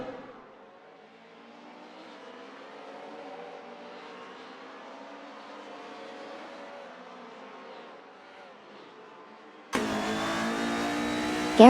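DTM race cars, a Mercedes C-Class DTM and a BMW M3 DTM Evo, race in a video game. A steady engine drone with shifting pitch runs throughout, then jumps sharply louder near the end as a car roars close by.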